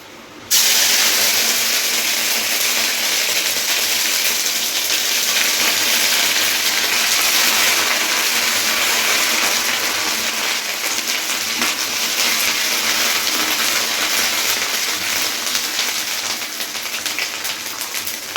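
Ginger paste hits hot oil in a pan on a gas stove, setting off a steady, loud broadband sizzle and spattering hiss that runs without a break from the moment it goes in.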